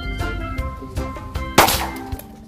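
A gunshot strikes a plastic water bottle in outdoor target shooting, giving a sharp loud clang-like impact around the middle, amid smaller knocks and ringing tones before and after.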